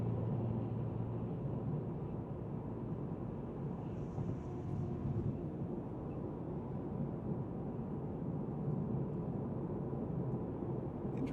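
Steady, even cabin drone of a sport sedan cruising at highway speed in sixth gear, a low road-and-engine rumble with mild wind hiss, constant and unbroken with no voices.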